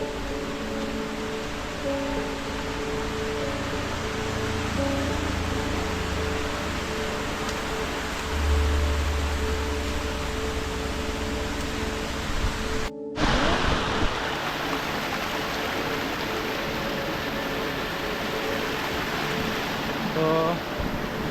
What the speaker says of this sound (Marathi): फायनली मित्र आपण स्टेप वॉटरफॉलला आलेलो आहे